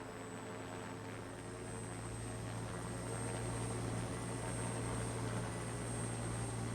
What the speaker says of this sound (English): The helicopter's coming.